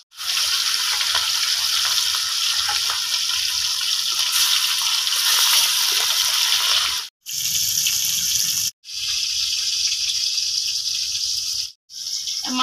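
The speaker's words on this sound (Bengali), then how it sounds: "এবার আমি মাছকে ভেজে নেব" Rui fish frying in hot mustard oil in a kadai, a loud continuous hissing sizzle that drops out briefly twice before resuming, with no voices.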